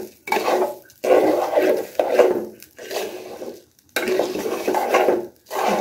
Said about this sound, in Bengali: এটা একটু ভাজা ভাজা হয়ে যাক।